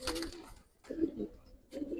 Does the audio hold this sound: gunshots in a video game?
no